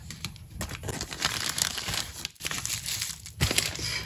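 Close-up crinkling and rustling of a plastic mail packet from an online purchase being handled and pulled open, with sharp crackles in irregular bursts and no talking.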